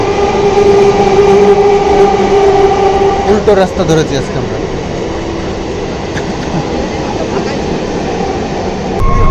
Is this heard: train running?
yes